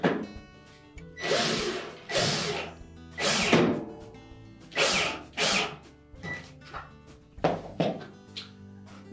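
Screw being tightened into the mounting bracket of a Whirlpool washer's spring retainer, heard as a series of short, close bursts of a power driver whirring, separated by brief pauses.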